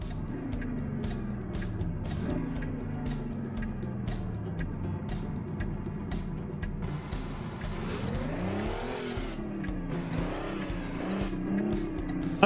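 A Mack Type R truck engine in American Truck Simulator drones steadily from inside the cab on icy roads, then revs up and down through gear changes, with clicks and ticks over the constant low rumble.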